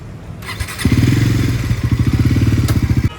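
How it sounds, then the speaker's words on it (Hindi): A Bajaj Pulsar NS400 motorcycle starts and settles into a loud, close, pulsing engine idle with a throaty rhythmic beat, heard alone. "लो भाई अभी बाइक टेस्ट राइड देखने जा रहे हैं कि कैसी चल रही है और कैसी नहीं चल रही है।"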